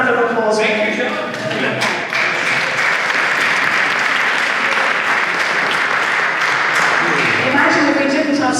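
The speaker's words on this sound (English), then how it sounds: "We'll give him a round of applause." An audience at a cathedral annual meeting applauds John with dense, steady clapping that fills the whole stretch and stays loud from start to finish, with some voices mixed in.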